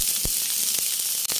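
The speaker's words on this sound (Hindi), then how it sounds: "और अभी मैं गोभी फ्राई कर रही हूँ।" Cauliflower and potatoes fry in mustard oil with a cumin and asafoetida tempering, giving a constant loud sizzle with a few sharp crackles and stirring clicks.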